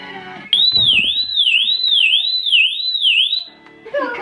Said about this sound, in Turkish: çok sesli bir acil e, durum şeyi var, alarmı var